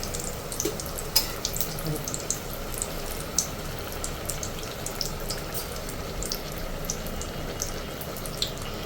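Jackfruit malpua frying in very hot oil, a steady faint crackle and bubbling with scattered small pops throughout, low background hiss and no talk.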